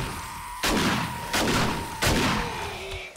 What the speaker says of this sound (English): Being speech jammed by the shotgun